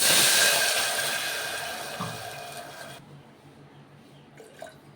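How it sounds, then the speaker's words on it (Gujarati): A glass of water poured into a hot cooking pot of ghee and toasted cumin, a loud rushing sizzle that fades steadily before cutting off, followed by faint drips and small splashes. "ત્યારબાદ પાણી એડ કરશું."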